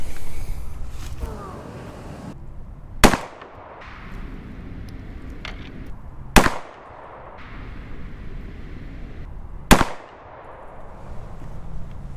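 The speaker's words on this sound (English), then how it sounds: "we're gonna take 3 shots and see where we stand" A rifle fitted with a Bushnell red dot sight fires three shots, each a sharp loud crack spaced a few seconds apart, with low outdoor background noise in between.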